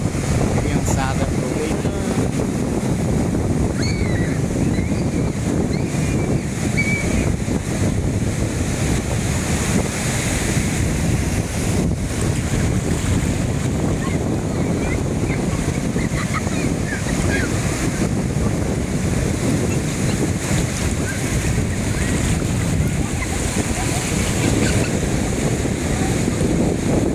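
Surf and wind at Praia dos Ingleses beach in Florianópolis, a continuous loud wash of breaking waves with wind buffeting the microphone throughout, and no clear voices.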